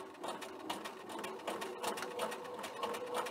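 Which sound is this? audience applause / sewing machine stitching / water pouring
sewing machine stitching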